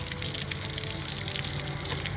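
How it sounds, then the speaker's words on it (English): Water drains out of a camper's opened water lines once the caps are unscrewed, a steady close hiss and patter with no talking. "Once the caps are open, the water will go ahead and drain out."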